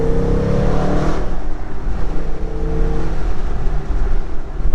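A 2020 Chevrolet Silverado Trail Boss pickup engine with a cold air intake growls loudly and continuously, revving with a deep throaty drone as it downshifts and accelerates, road noise beneath it.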